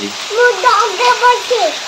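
Steady monsoon rain falls in a broad, even hiss while a person talks over it in short phrases.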